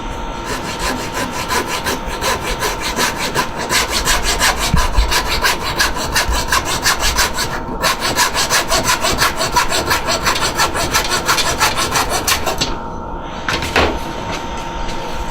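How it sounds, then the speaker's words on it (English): A hacksaw cuts through material in steady, rapid back-and-forth strokes, loud and close, continuing almost without pause, with brief breaks near the end. "So I'm going to take a handy dandy hacksaw again, and I'm just going to cut it."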